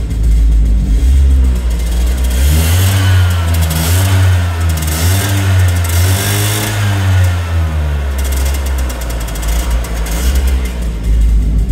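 A 1994 Piaggio Ape 50cc two-stroke three-wheeler van engine runs loudly and steadily close by, its pitch rising and falling a little as it revs, with no talking.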